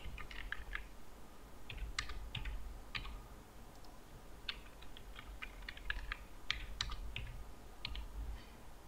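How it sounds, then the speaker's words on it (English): Quiet bursts of computer keyboard typing, clustered keystrokes tapping out an email and password, faint against a steady low hum. "And type here your email."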